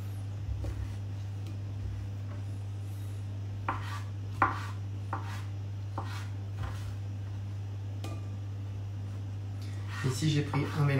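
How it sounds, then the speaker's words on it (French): A knife chops and slices mushrooms, a mix including shiitake and porcini, on a board in a home kitchen, making soft, irregular taps over a steady background hum and ending in a quick cluster of cuts. "Je vais simplement découper et émincer."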